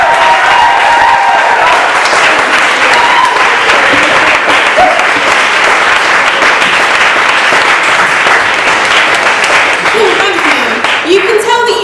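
A live audience at a spoken-word poetry night applauds steadily and loudly for several seconds, a dense wash of clapping with a few cheers near the end.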